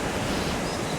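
Water pours over the Thirumoorthy dam in the Thirumoorthy Hills, a dense, even rushing hiss that fills the whole brief moment without any voices.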